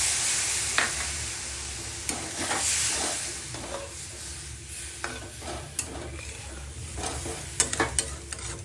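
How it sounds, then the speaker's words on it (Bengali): Water goes into a hot pan of fish curry, setting off a hissing sizzle with a steamy rush, followed by scattered clinks and scrapes of stirring. "তাহলে আমি এখন জল দিচ্ছি।"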